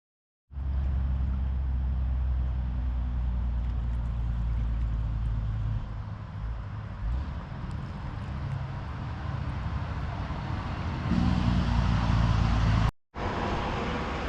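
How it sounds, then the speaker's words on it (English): Road traffic at a highway intersection of Route 507 and Route 6 near Promised Land State Park, a steady loud wash of passing cars and engines with a swell near the end, briefly cutting out before resuming. "as you can hear the traffic, the intersection of 507 and Route 6"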